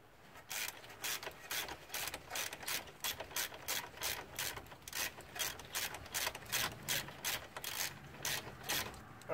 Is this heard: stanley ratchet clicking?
yes